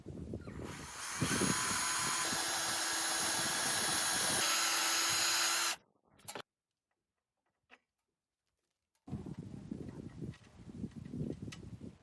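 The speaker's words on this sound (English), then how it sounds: "we'll drill a 6mm hole" A power drill boring a 6mm hole for M6 carriage bolts on a small boat fitting, a loud steady whine for about six seconds that stops abruptly, followed by silence and then a second burst of drilling.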